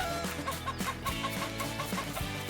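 Chicken clucking in a farmyard, a rapid run of short close clucks over a busy background of music or other tones, steady and continuous throughout.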